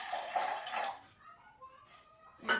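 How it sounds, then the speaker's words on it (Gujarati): Water pours into a cooking pot of sour buttermilk set on a lit gas stove in a home kitchen, a loud rushing splash for about a second, then quieter ringing and trickling, with a second short splash at the end. "આપણે થોડુંક પાણી નાખતા"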